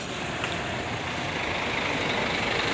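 Double-decker bus on the Pekanbaru–Medan route, its engine running as a steady, loud low rumble with a broad hiss and no change in pitch, heard up close and without talking.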